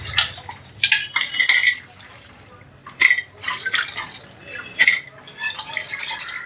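Crabs are washed in a vessel of water, giving bursts of splashing, sloshing and hard clattering shell knocks in uneven spurts, up close.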